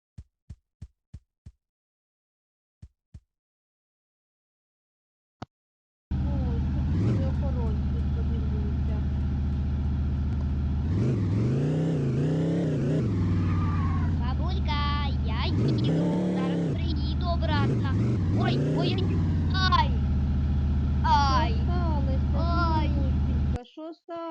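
A car drives in the video game Chicken Gun, its engine droning loudly and continuously after a few sharp clicks, with pitch rising and falling as it revs and accelerates.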